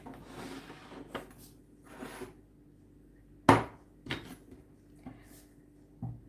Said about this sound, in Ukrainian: ріжу його на чотири частинки. Тому що каштан різати тяжко, в нього кожура